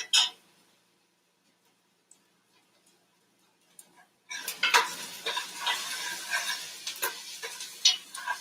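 Onions sauté in a pot as the flavor base for a soup: near-silence at first, then a steady, close sizzle with clinks and scrapes of stirring that runs to the end, with no talking.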